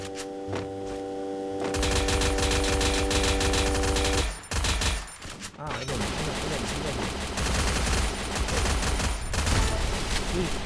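Rifle gunfire in a first-person shooter game, with dense rapid bursts of close, loud shots that break off briefly midway and then resume, over a low background hum.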